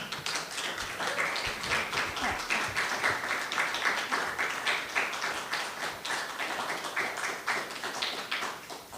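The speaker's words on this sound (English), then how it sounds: "Another round of applause for Susan" An audience applauds at a poetry reading in the Milwaukie Poetry Series, steady sustained clapping from a room of people, even and full without pause throughout.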